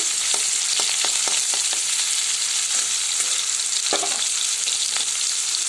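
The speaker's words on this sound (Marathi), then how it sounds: "दालचिनी, लवंग, ते पण छान असं परतून घ्यायचं आहे आपल्याला।" Cinnamon and cloves frying in a pan, a constant bright sizzle with a series of sharp clicks and taps from stirring scattered through, close and loud with no talk.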